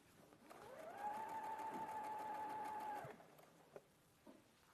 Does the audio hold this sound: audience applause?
no